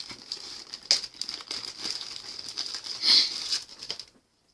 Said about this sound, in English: What's in the fancy bag? Let's open it. Let's rip it up.